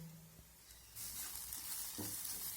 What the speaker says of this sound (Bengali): ম্যাগি মশলাটা দিয়ে আমি আবারও একটু ভালো করে নেড়ে চেড়ে নেব।